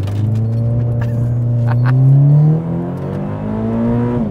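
A Toyota GT86 engine revving up near the rev limiter, a loud close rising drone that climbs, holds near the top, dips and climbs again, with no talk over it.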